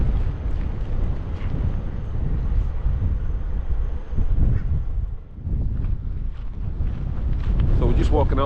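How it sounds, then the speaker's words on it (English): Strong wind buffets the microphone outdoors in Svalbard near Longyearbyen town centre, a steady loud low roar with gusts throughout, easing briefly midway, and a voice speaking faintly over it. "It's bloody windy."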